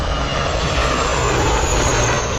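Prachand light combat helicopter flying, a loud, steady and continuous roar of engine and rotor with no breaks and no talking.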